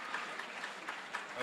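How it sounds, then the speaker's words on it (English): Polite applause from a small audience at an under-23 world squash championship match, a steady patter of clapping that carries faintly and evenly through the short stretch with slight swells. "bad shot being applauded"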